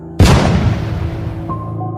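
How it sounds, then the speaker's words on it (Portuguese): A single loud gunshot booms abruptly and rings out into a long decaying echo, followed by a low sustained ominous tone, with no voice. "efetuou um disparo"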